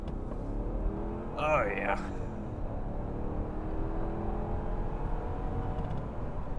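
A fire-damaged Mercedes SLR McLaren, a 2002 Silver Arrow Edition, with its engine droning steadily and building under acceleration, heard from inside the car; a brief voice speaks over it.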